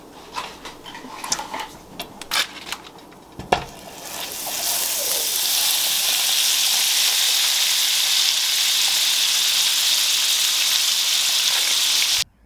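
Two sticks of butter hitting a hot pan and browning, first some clattering and handling, then a loud, steady sizzle that fills the rest of the stretch and cuts off abruptly at the end.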